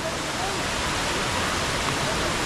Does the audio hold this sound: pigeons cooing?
no